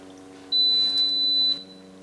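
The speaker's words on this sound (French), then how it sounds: "la plaque s'éteint avec un bip" A single steady electronic beep from a Sauter Spin 4361 B induction hob switching off, about one second long and fairly clear, over a quiet background hum.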